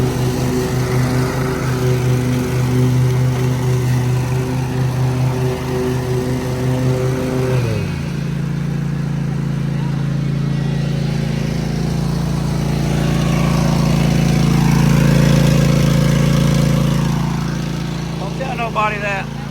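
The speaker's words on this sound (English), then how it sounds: "I'm gonna head and get the actual lawnmower so I can drive up under there" A riding lawn mower engine runs loudly nearby, its steady drone dropping in pitch partway through and then droning on.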